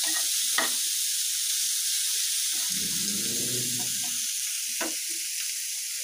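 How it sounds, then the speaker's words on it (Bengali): Chicken pieces sizzle and fry with spices in a pan, a constant loud hiss with a brief lower clatter of stirring midway, and no voices. "এখন মুরগির মাংসটা দিয়ে খুব ভালো করে মশলার সাথে মিশিয়ে নিচ্ছি।"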